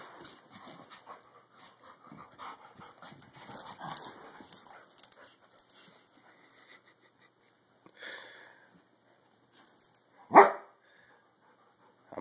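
Dogs in a household, two big dogs and a tiny energetic one, giving a few scattered sniffs and short barks, with one sharp loud bark standing out near the end.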